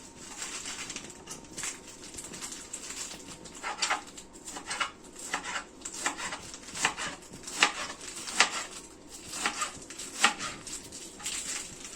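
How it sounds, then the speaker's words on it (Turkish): A knife chops lettuce finely on a cutting board, with a steady series of quick, light, close taps repeating for several seconds at a moderate, slightly uneven pace. "Böyle ince ince doğramaya çalışalım."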